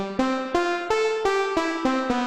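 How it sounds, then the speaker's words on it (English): Buzzy synth keys pluck a slow sequence of single notes, each tail ringing into the next with a roomy reverberant wash; no voices. "and I added some reverb, which made it sound like this."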